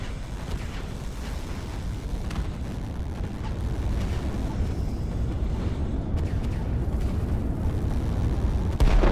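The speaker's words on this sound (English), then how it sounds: "Here comes the other rocket." Dense, continuous rumbling of rocket and artillery fire in the Line War strategy game, a steady low-heavy roar of blasts and booms sustained throughout, swelling slightly toward the end, with no talk.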